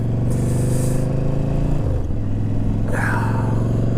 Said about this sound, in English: Oh, there's another car.